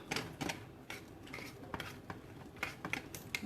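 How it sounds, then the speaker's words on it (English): Metal whisk clinking and scraping against a skillet while mixing a creamy white wine sauce for pork chops, a quick irregular series of light taps and scrapes, fairly quiet and close, with no talking. "I'm going to get my whisk to kind of mix that up."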